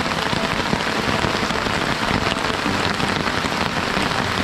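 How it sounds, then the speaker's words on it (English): Heavy rain pours steadily on a forest camp during solo motorcycle camping, a loud, dense and continuous hiss with no voices. "Moto camping solo in the rain, in the middle of a forest."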